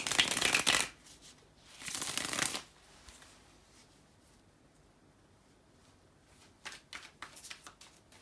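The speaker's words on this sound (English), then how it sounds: "to shuffle the tarot cards" Tarot cards being shuffled in two brisk riffling bursts, followed by quieter handling and a few more soft card flicks near the end.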